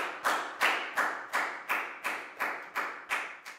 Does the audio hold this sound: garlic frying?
no